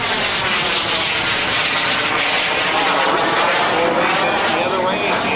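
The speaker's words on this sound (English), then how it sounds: "the jet, believe me again, is just 12 feet long with a wingspan of 17 feet" A Bud Light Micro Jet, a tiny jet aircraft just 12 feet long with a 17-foot wingspan, performs at the 2000 Sounds of Freedom airshow, making a steady, loud, close roar throughout with an announcer talking underneath.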